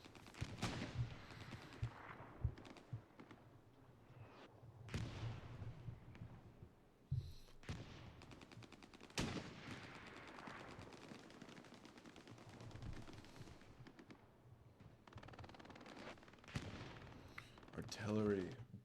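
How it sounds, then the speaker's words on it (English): Video game artillery fire with a nearby battle of tanks at a bridge: steady muffled booms and crackling gunfire under a talking commentator, with a few louder blasts. "Artillery, brutal."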